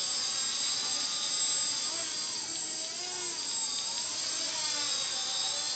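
A small quadcopter's motors during its maiden hover give a steady high-pitched buzzing whine, loud and close, with subtle pitch wavers as the craft corrects itself.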